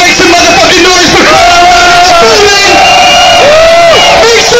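Live concert crowd roaring and shouting in a loud, continuous wall of cheers and whoops, with rising and falling yells throughout.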